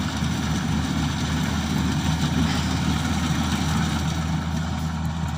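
Kubota DC 95 GM combine harvester harvesting upland rice, its engine running in a steady loud low drone with a constant mechanical rumble and no talking.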